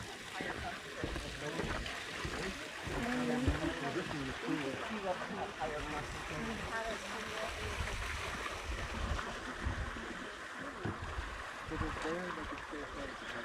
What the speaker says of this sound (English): Got a nice little waterfall action here